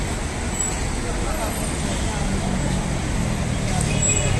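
Car and bus traffic on a busy Istanbul street, a dense, steady roar of engines and tyres close by that continues without a break, with faint voices mixed in.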